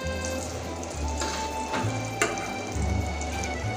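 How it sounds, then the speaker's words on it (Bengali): Potatoes frying in a pan give off a soft, steady sizzle over a low background hum, quiet and close, lasting a few seconds with no talking. "এখানে দেখুন আলুটা আমি ভেজে নিচ্ছি"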